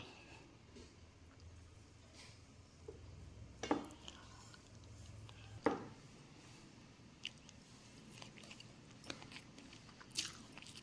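Soft chewing and occasional crunchy bites of rava upma made with coconut oil, quiet and close, a few sharper bite sounds spaced over steady low room noise.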